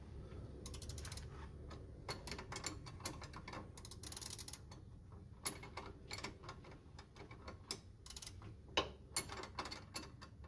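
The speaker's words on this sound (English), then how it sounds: "I'm gonna put the spanner over it." A spanner turns a Torx bit on a sway bar fitting on a 2005 Ford Focus ST, making quiet close-up ratcheting clicks and metallic ticks in irregular bursts with brief pauses.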